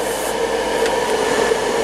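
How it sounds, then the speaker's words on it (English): The cooling fan of a Chevalier Smart B818II CNC surface grinder runs close by with a steady, dense whoosh and a faint whine over a low hum. "Fan is on now, you can hear it."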